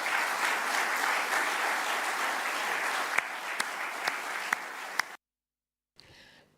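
A studio audience on a Barbados morning show gives a round of applause, dense steady clapping with a few sharper claps near the end before it cuts to silence.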